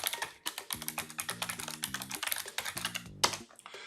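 Rapid, close clatter of keys on a computer keyboard as a name and email are entered, uneven bursts of clicks with brief pauses and a louder tap near the end.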